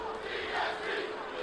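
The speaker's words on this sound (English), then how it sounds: "You hear the crowd." A crowd roars in a WWE 2K24 SmackDown wrestling arena, a steady, broad, moderately faint cheer swelling briefly, with no commentary over it.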